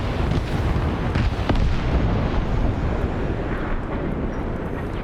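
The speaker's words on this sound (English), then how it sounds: "Looks like that airstrike did it, though." Airstrike explosion in Arma SOG Prairie Fire, a Vietnam War era game: a loud, sustained roaring blast with rolling rumble and crackle that stays dense and powerful for the whole clip.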